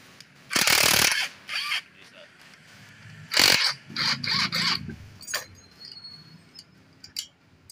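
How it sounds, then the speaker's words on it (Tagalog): A ratchet loosens the 10mm bolts on the cylinder head of a Honda PCX 160 engine during an overhaul, giving close, loud clicking bursts separated by short pauses, with someone speaking softly in between. "So next natin natanggalin itong kanyang mga tornilyo sa kanyang head. So dalawang 10mm kabilaan."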